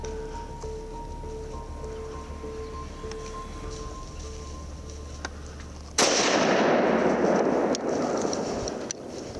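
A single rifle shot fired at a running deer on a hunt, a sudden loud crack that decays into a long rolling rumble across open ground, after a stretch of quiet outdoor ambience.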